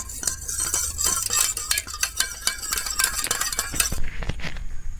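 A spoon stirs agar agar powder mixed with water in a separate bowl for jelly pudding, giving steady rapid clinks and scrapes against the bowl that stay close and fairly loud throughout, with no talk.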